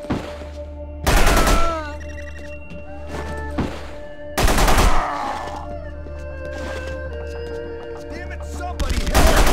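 Gunfire in The Punisher PC game: two heavy bursts of shots a few seconds apart, then a third starting at the end, over a steady low rumble and tonal game sounds.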